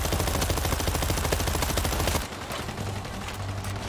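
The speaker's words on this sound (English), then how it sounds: "We're hearing gunfire from the river." Sustained rapid gunfire in the World War Z video game during a Moscow level, a dense loud automatic rattle that cuts off abruptly partway, leaving quieter distant shots and ambience.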